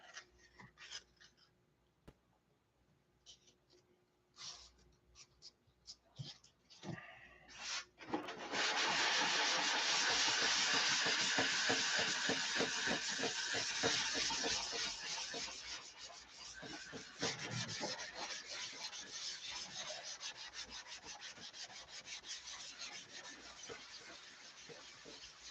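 A fishing float is rubbed down with 600 grit sandpaper: scattered scratchy strokes at first, then a long, loud, steady run of fast rasping close by, easing slightly toward the end.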